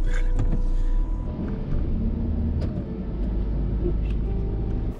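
A car drives along with a steady low engine and road rumble throughout, continuous and close, with slight shifts in tone as it travels.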